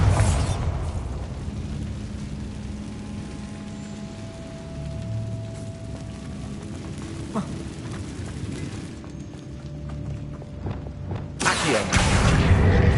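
Bombarda blasting spell in a Harry Potter video game, a booming explosive burst with rumbling debris and crackle, followed by a lingering noisy roar and a second loud blast near the end.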